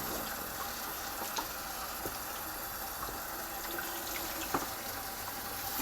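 Water from a hose running steadily into a dish sink, a continuous close splashing rush that stays even throughout, with no talk.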